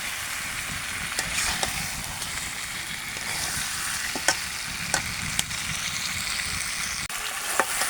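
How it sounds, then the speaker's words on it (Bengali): Chicken pieces fry with spices in a pan for a spicy roast, a steady loud sizzle with occasional sharp crackles and stirring scrapes throughout. "মাংসগুলো মশলার সঙ্গে ভুনে নেব।"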